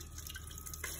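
Murky soaking water is poured off beans into a sink, a soft faint trickle and drip close by with no talk.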